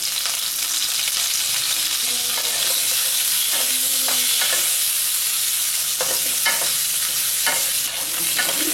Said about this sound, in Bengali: একবার ভালো করে নেড়ে দিচ্ছি।